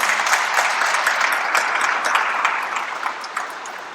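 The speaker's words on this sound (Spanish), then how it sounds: "Con un fuerte aplauso para ustedes." Audience clapping for three panelists at a seminar, a dense wash of hand claps that holds steady and then thins and fades toward the end.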